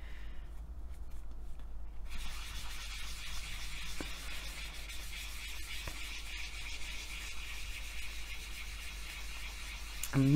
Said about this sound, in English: just lightly rubbing over the surface